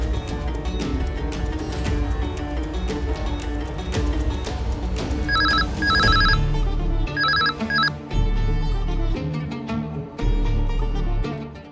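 A telephone rings in a few short, repeated double bursts partway through, partly buried under loud dramatic background music.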